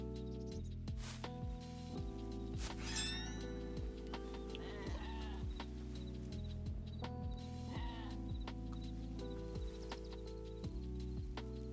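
Sheep bleating in the video game Hytale, several short bleats over steady looping game music, with other bird-like game sounds nearby.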